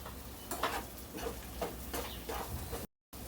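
A spatula stirs and scrapes through okra fry dusted with chili powder in a pan, in soft, irregular strokes over a steady low sizzle, close up and with no voices.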